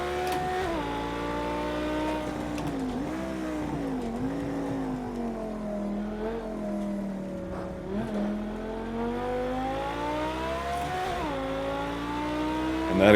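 A road car engine in Project CARS 2 revs up through the gears, its tone climbing and dropping back at each shift, then climbing again, loud and sustained, with no voices over it.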